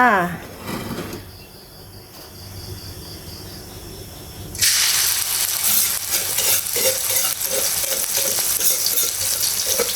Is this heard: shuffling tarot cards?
no